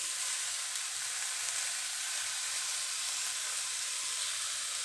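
Burger patties topped with cheese frying in a pan give a loud, continuous, bright sizzle that stays steady and close throughout, with no speech.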